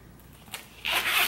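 A plastic zipper on a Chanel wallet, heard as a quiet tick followed by a brief, close rasping zip pull.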